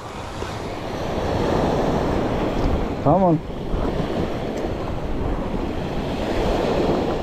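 Beach surf rolls and breaks steadily during surf fishing for speckled trout at Fort Morgan, Alabama, a loud continuous wash with wind buffeting the microphone and a brief spoken word in the middle.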